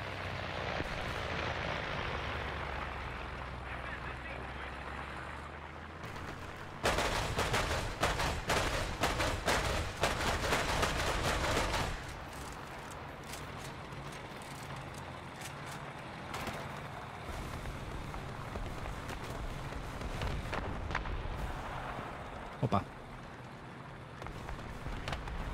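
Heavy 155 mm cannon fire and battle noise in War Thunder, a dense burst of loud cracking blasts in the middle set against continuous rumbling engine and combat din, with a sharp single report near the end.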